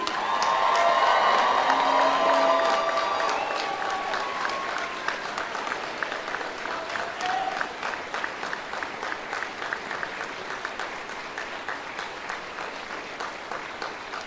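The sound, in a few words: audience applause at Navy OCS graduation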